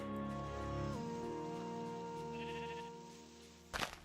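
A sheep bleats in the video game Minecraft, heard against steady background game music, followed by a short, sharp hit near the end.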